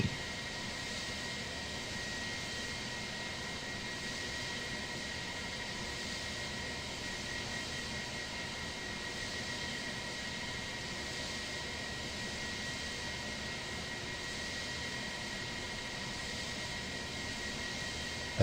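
Aircraft engine in a flight simulator game during a long taxi, a steady unbroken jet-like whine and rumble at constant level for the whole stretch, with no voices.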